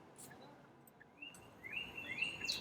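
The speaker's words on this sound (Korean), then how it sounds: "이 소리는 캐나다의 어떤 한 숲에서 따온 소리라고 합니다." Canadian forest birdsong played as a nature sound in a Kia K7 facelift: quiet ambient hush with scattered high chirps and whistled calls that grow busier and louder toward the end.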